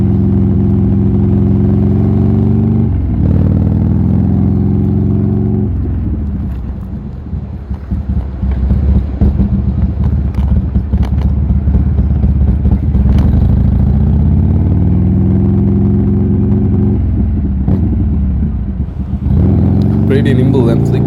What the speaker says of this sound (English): today we are on the Buell Lightning XB12S. My first time on a 1000cc plus bike.